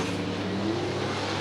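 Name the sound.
super sedan race cars at Charlton Raceway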